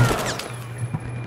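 A shotgun blast at point-blank range in Battlefield 4, a short sharp report at the start of a busy game mix with sustained background rumble and further faint impacts.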